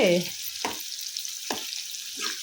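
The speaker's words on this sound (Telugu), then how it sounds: "ముక్కలు బాగా ఏగి కలర్ మారే వరకు వేపుకోవాలండి" Bitter gourd pieces fry in a pan with a soft, steady sizzle, broken by two sharp scraping stirs of a spoon against the pan and a fainter third near the end.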